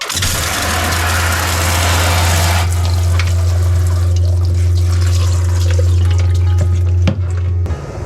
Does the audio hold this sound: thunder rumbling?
no